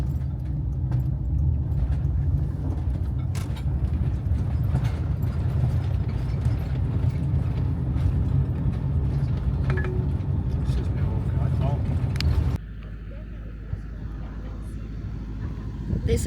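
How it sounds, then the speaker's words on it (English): Camper van engine rumbling steadily while pulling slowly into a concrete riverside car park, with crunching tyres and small knocks throughout, then a sudden drop to a quieter idle near the end. "Just pulling into car park."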